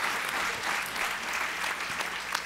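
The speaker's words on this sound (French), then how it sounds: "une dernière main d'applaudissements pour cette première série." Audience applause at the opening of a French-language science-society forum on social innovation, a dense, loud burst of many hands clapping together for a couple of seconds with no voices over it.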